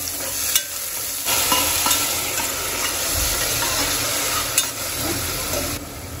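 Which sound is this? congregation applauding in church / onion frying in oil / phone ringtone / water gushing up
onion frying in oil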